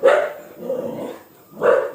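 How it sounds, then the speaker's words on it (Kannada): A dog barks repeatedly at close range in a village, three loud woofs spaced unevenly, with brief pauses between them; several dogs are present. "ಇಲ್ಲೊಂದು ನಾಲ್ಕು ನಾಯಿ ಬಂದಿದ್ದಾವೆ"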